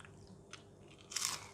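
Someone takes a crunchy bite of hot, crispy fried bitter gourd, a quick crackling crunch up close after a faint softer chew.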